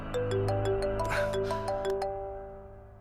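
A phone ringtone plays a short chiming melody of bright repeated tones for about two seconds, then fades out with no talking over it.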